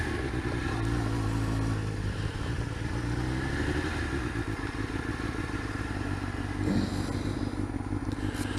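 A Suzuki GSX-R 600 SRAD streetfighter motorcycle rumbles steadily while being ridden, its engine drone close and continuous with a brief rise in pitch near the end.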